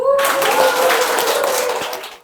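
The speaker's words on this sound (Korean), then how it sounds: "박수." A congregation at a Catholic mass claps for a guest speaker, a short, close burst of lively hand clapping with a voice briefly audible beneath it, fading out after two seconds.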